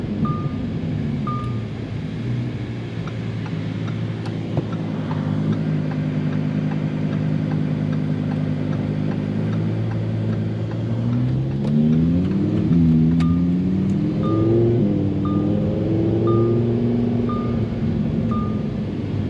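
A 2018 Lamborghini Huracan with aftermarket exhaust idles with a steady rumble, then revs and accelerates with a rising, climbing engine tone, heard close from inside the car, no talk.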